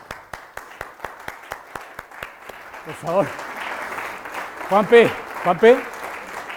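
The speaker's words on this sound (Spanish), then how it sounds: "A mí me gustaría que por favor se levanten y les demos todos un aplauso." A few regular claps come at an even rhythm from an audience at a talk, then give way to someone speaking over scattered noise in the room.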